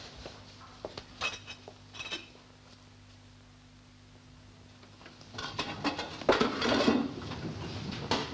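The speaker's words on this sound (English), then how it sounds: "you put the kettle on then, and I'll empty the teapot" Crockery and metal clink and clatter in a domestic kitchen, with a few sharp knocks early on, a quiet stretch, then a busier burst of rattling dishes and pouring near the end; no talk.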